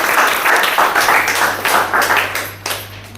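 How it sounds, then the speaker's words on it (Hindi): Audience applause for the Vestige company at a network marketing talk, a dense crowd of clapping in steady overlapping bursts that fades toward the end, with no voices over it. "हमारी वेस्टीज कंपनी के लिए ज़ोरदार तालियां।"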